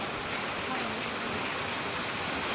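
Rain falls heavily around a rural home, a continuous loud wash of hiss and spatter that fills the scene without a break.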